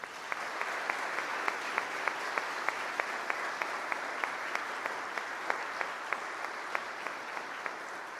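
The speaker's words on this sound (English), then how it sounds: "Let's congratulate these graduates by giving them a round of applause." A crowd at a graduation ceremony applauds steadily, with sustained clapping throughout and a few sharper individual claps standing out at a regular pace.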